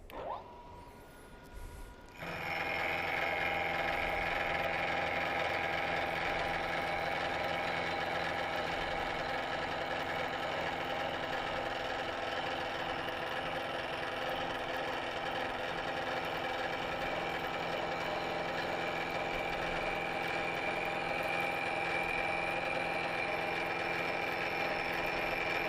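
A manual milling machine takes a second pass across a metal block being squared up, a steady loud machining whir with sustained tonal hum that begins after a short quiet start and runs unbroken to the end.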